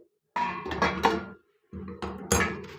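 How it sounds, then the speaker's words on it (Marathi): A pot lid comes off a cooking pot nearby in two clattering, ringing metallic bursts separated by a brief silent pause. "झाकून ठेवलं मग झाकण खोलत आहे"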